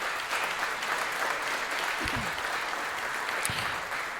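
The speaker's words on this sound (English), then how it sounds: "Another applause for our speakers today." Steady applause from the audience at a chamber of commerce luncheon on transportation and traffic, a dense, even wash of clapping throughout, with a brief voice faintly audible beneath.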